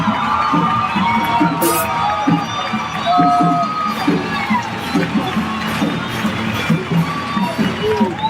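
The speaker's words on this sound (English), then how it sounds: "Big round of applause for the man himself, Mr. Dereck Boyer." A live crowd cheers and whoops for a man being introduced on stage, a loud, continuous roar of shouts and applause with a few high yells rising out of it across the whole stretch.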